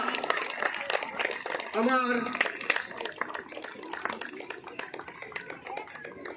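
An audience at a school flag-hoisting ceremony for a silver jubilee celebration claps together, a steady patter of many hands at moderate distance, with a brief stretch of speech near the start and applause continuing underneath.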